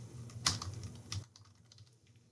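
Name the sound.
typing on a computer keyboard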